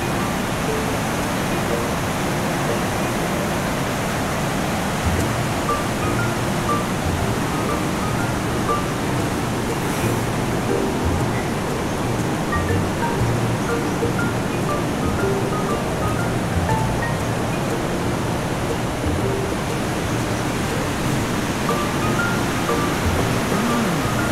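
Swift-flowing river water at Sedim, Kulim, Kedah, a loud, steady rushing roar that fills the whole stretch without a break and with no voices.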